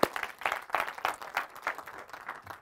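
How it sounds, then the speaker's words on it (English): A crowd applauds with steady, dense clapping throughout, moderately loud and fairly close, with no one speaking over it. "we got a big round of applause,"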